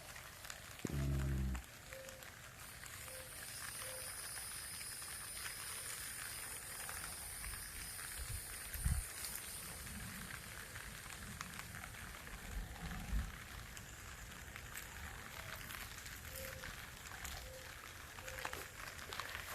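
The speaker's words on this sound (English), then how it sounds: "Here's a little pitter patter of the raindrops." Light rain patters steadily on bamboo outdoors in June, a soft continuous hiss with scattered faint drops, a short low thump near the start and a few soft knocks later.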